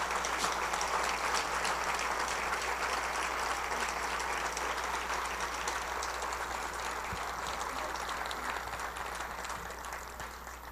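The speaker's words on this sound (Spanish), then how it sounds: "Denle un aplauso al Señor." A congregation at a parish gathering applauds, sustained dense clapping from a crowd that fills the room and slowly fades toward the end.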